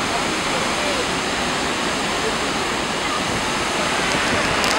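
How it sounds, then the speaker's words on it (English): Niagara's American Falls roars from right beneath the falling water, a loud, dense and unbroken wash of white noise that holds steady throughout, with faint voices just audible beneath it. "We're right up under American Falls."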